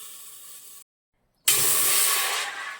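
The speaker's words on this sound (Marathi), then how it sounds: "ह्याच गिलासाने मी चार गिलास पाणी ओतणार आहे" A hissing splash of water pours from a glass into a pot for sabudana, cuts off briefly, then resumes louder and steady before tapering slightly.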